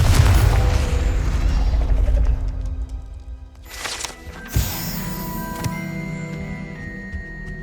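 A Confringo blasting spell explodes in the game Hogwarts Legacy on PS5, a loud deep boom that trails off over a few seconds, followed by scattered crackling and sharp smaller impacts.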